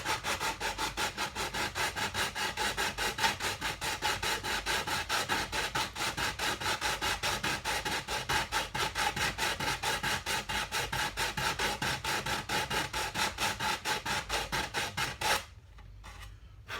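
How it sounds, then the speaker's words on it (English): Very thin wood is sanded by hand in quick, even back-and-forth strokes, a close, rhythmic rasping at a few strokes per second that continues steadily and then stops near the end. "don't want to apply a lot of pressure, especially when you are sanding very thin wood"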